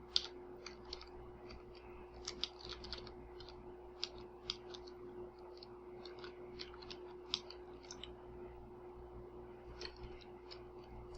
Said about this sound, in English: I'll just finish typing the program.